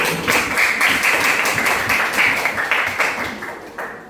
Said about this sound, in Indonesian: Tepuk tangan untuk Rui